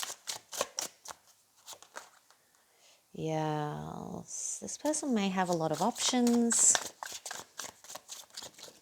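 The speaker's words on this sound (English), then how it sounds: "that's my bad shuffling" Rapid riffling clicks of tarot cards being shuffled close up, in bursts before and after a stretch of spoken words.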